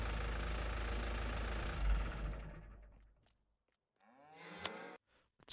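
Cattle lowing in Farming Simulator 19, with a game engine rumble fading out first, then a single clear, fairly loud moo near the end.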